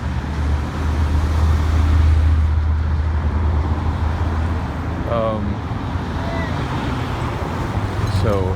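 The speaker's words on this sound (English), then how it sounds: "but obviously it's a self-driving car" A Cruise self-driving car passes along a city street beside a bus stop amid steady traffic rumble, with a low engine-and-tire drone that swells and fades over several seconds, heard outdoors with a faint passing whine.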